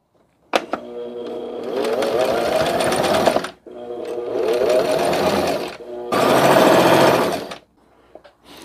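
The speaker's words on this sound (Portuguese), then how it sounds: "Essa máquina aqui, gente, ela é mais barulhenta, né?" Noisy sewing machine stitching a simple Christmas dish towel, three long loud bursts of fast mechanical whirring and rattling separated by brief pauses, close up.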